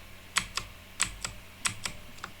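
Computer keyboard keys pressed during a coding session, several crisp separate clicks in quick irregular bursts, close and fairly quiet, no talking.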